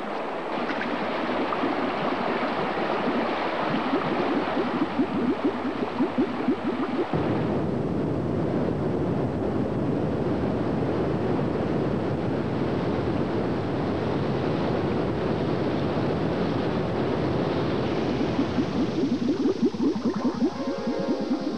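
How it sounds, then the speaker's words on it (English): Turbulent mountain stream churning through pools below waterfalls, a steady, dense rushing roar that holds without a break from start to finish. "Pools below the falls, the water is turbulent, but clear and well oxygenated."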